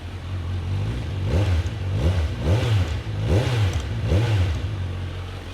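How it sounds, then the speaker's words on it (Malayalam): A warmed-up Kawasaki Ninja 1100 motorcycle engine revs in a steady rhythm of about five quick throttle blips, each rising and falling over a loud, close exhaust idle. "അതാണ് ഇതിൻ്റെ എക്സോസ്റ്റ് സൗണ്ട്."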